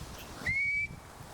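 A person gives a single short, rising whistle outdoors to attract a bird of prey, clear but brief against faint background noise.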